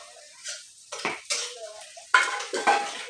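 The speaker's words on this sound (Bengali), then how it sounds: "রান্না করছি উনুনে।" A spoon clinks and scrapes against a pot on a wood-fired clay stove, a handful of separate metallic knocks and stirs, close and fairly loud over a faint background.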